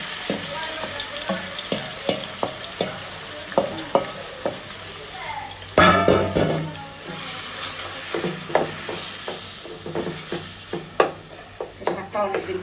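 Leafy greens are stir-fried with fried onions in a pan: a soft sizzle underlies repeated scraping strokes of stirring at an irregular rhythm, with one louder clatter midway.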